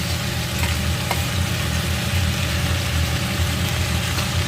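Ground paste of ginger, garlic, green chili, cumin and onion sizzles loudly in a hot pan while cooking prawns with radhuni, a steady close frying hiss with faint stirring clicks and a low rumble underneath.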